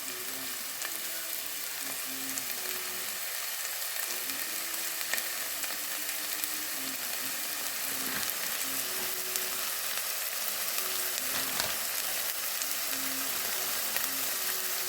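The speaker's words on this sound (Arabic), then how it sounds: "هسه راح نحمس البصل ونذيب عليه اللحم." Onions and meat fry in a pan with a steady, close hiss of sizzling oil and occasional stirring scrapes, with no voices over it.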